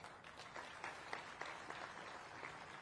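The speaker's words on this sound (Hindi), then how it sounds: "तालियां कम बजी।" Thin, scattered applause from an audience at a regional industry conclave in Gwalior, faint and distant, with a few individual claps standing out.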